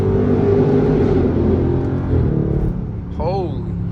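A 650hp SRT 392 V8 drones loudly as it is driven into a tunnel, the engine note shifting as a gear is dropped, heard from inside the car with someone talking over it.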